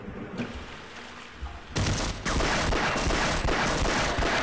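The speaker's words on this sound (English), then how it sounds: "Crazy the amount of rockets going on here." Rockets and gunfire in Half-Life, a dense loud barrage of explosions and shots that swells after a quieter opening and keeps rolling without letup.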